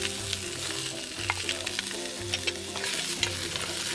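Carrots, leeks, celery and onions sweating in a pan over medium-high heat, with a steady soft sizzle broken by intermittent stirring scrapes and clicks throughout, no voices.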